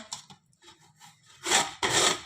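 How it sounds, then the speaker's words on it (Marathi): Raw green mango rubbed over a hand grater, a few short scratchy rasps followed by two louder, longer grating strokes close up. "आता आपण ही कैरी या किसणीने किसून घेऊया"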